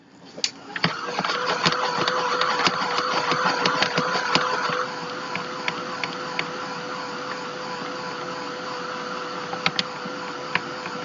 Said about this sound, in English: I'm just going to take the heat gun to it.